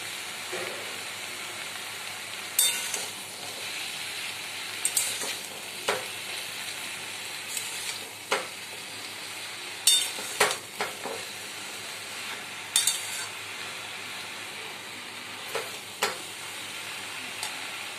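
Chopped malabar spinach sizzles steadily in a hot pan while a utensil stirs it, its scrapes and knocks landing at irregular intervals over the continuous frying hiss.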